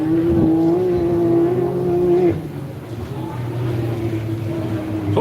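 Can-Am race car engine pulling away in competition against a Toyota, a loud droning tone that holds steady, then drops and lowers in pitch as the car moves off, with a second engine layered underneath.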